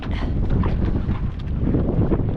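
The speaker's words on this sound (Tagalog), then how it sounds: "Mahangin." Steady wind gusts buffet the microphone with a low, continuous rumble and roar, loud and close, with no voices, at an outdoor seaside camp in the Philippines.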